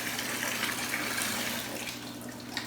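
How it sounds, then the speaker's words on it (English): Water runs from a garden hose used to fill buckets for cleaning aquarium equipment, a steady close gushing splash that eases off slightly toward the end, with no talk. "let me go turn the water off"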